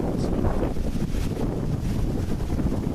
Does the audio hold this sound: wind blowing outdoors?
yes